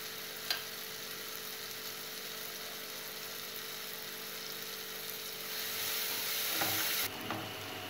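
Tomato masala for egg masala fries in a pan with a soft, steady sizzle. A couple of faint clicks sound near the start, and the sizzle swells briefly toward the end, with no one talking.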